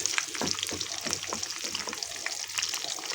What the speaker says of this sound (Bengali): তেলটা গরম হলে এই পেঁয়াজটা দিয়ে দেবো একটু ভাজা ভাজা করে নেব